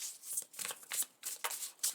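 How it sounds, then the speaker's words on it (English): Tarot cards being shuffled by hand, a series of close, crisp riffling bursts in an irregular rhythm with brief pauses between, heard alone without talk. "Please let me know if the shuffling is a bit loud."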